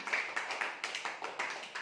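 Children clapping together in a classroom, a quiet, brisk run of about eight rhythmic claps in even succession with no talk.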